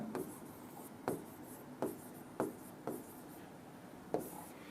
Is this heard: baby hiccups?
no